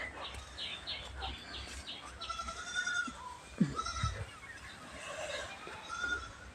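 Goats bleat a few times at moderate distance amid outdoor ambience at a rural home in Bihar, with birds chirping and some faint human voices.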